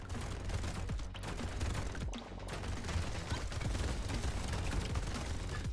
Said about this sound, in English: A faster minigun